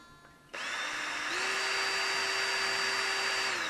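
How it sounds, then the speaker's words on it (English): A power drill spins up abruptly and whines steadily at close range, its pitch stepping up slightly partway through and holding there. "and then I drill a hole"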